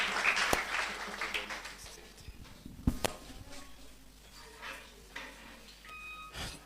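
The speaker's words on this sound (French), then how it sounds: "Pendant qu'on a applaudi Frère Judner qui va l'avancer pour le message" A church congregation claps during a service, with scattered light applause and a few sharp knocks amid room noise.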